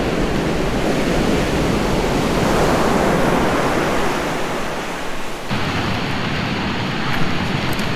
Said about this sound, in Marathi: समुद्राचा खूप छान असा आवाज येतोय